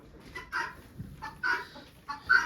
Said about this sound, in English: There's one chicken up there.